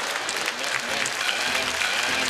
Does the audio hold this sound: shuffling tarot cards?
no